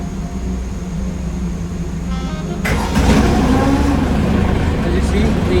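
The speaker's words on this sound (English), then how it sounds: "As you see, the engine is running." A lifeboat engine on a cargo ship preheats, cranks and catches partway through, then runs with a steady broadband rumble and hiss; a voice may be faintly present underneath.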